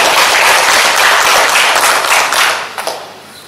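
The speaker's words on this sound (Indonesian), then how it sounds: "tepuk tangan untuk kawan-kawan yang ada di SGI" Loud, close applause from an audience at a teachers' event, dense clapping sustained for a couple of seconds before thinning into a few last scattered claps.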